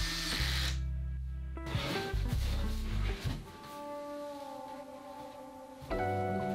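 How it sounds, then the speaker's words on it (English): A power drill drives pocket hole screws to attach the legs of a desk, its motor whining in a loud rising and falling burst, then holding a steadier hum before spinning up again at the end. "I then secure the 2 legs to the sides with more pocket hole screws, completing the main structure of the desk."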